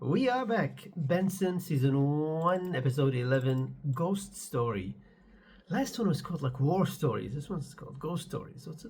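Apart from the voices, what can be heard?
No distinct noise like a dog, phone or traffic.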